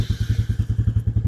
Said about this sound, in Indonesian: Hidupin mesin dulu.